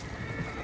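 A horse whinnies briefly in the video game Red Dead Redemption 2, with hooves clip-clopping beneath a steady blur of background game noise.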